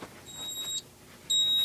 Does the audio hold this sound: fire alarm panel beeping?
yes